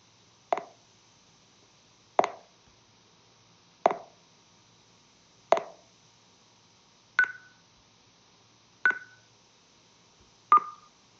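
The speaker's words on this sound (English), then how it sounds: "This is a good one for testing delay because you input a pulse, you hear, is there a delayed version, is there feedback?" An input pulse run through a delay effect with feedback returns as seven sharp, evenly spaced clicks about every 1.6 seconds, staying strong with little decay against a quiet background hum.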